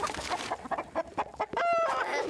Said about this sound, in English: Why is there chickens?